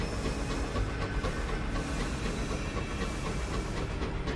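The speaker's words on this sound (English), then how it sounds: "This train sounds a bit different." A train rumbles and hisses steadily in the video game Sunless Skies, a continuous dense mechanical drone with a steam-like hiss, loud and close.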